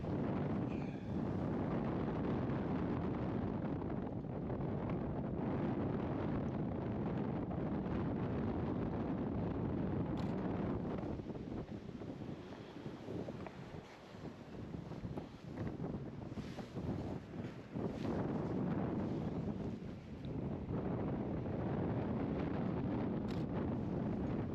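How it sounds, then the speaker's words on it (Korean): Sea waves at Namae harbour in Yangyang wash steadily, their broad roar almost buried under heavy wind buffeting on the microphone, with no voices. "파도가 점점 높아지니까 막아놨나 봐요."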